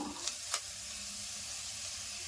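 Chopped onion and capsicum fry in a little oil for white sauce pasta, giving a steady close sizzle with two brief scraping stirs near the start.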